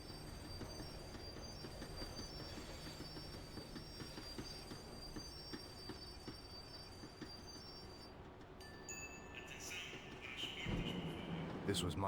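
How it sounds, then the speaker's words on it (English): A tram from the game Max Payne 3 slows down: rumbling rail noise with high metallic wheel squeals running throughout, then a louder surge of braking rumble near the end, with a voice speaking over it. "The tram was slowing down"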